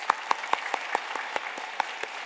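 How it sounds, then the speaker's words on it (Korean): A church congregation claps during a New Year service, a sparse run of about a dozen distinct, fairly regular claps over a soft background murmur of a hall. "우리 서로를 축복하면서 박수 한번 하겠습니다"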